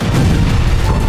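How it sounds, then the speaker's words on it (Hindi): Explosion following an attack on IDF surveillance and sensor equipment: a loud, dense rumbling blast that stays heavy and sustained for about a second, with no voices. "आईडीएफ के इन उपकरणों से हमले के बाद धमाका और उसके बाद आग की लपटें"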